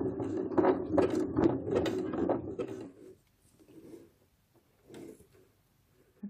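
Sewing machine stitching ribbon in reverse, a rapid close mechanical rattle for about three seconds, then quiet with a couple of brief softer whirs and clicks as the fabric is handled.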